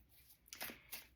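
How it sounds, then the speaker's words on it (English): A quiet, brief riffle of tarot cards being shuffled, two soft bursts of papery flicking close by. "I'm going to shuffle those back in"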